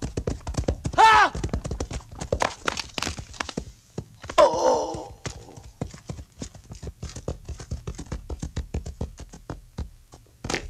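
Horse hooves clip-clop at a steady walking pace in a period film setting, with thuds and a whinny-like sound partway through, under and between voices speaking.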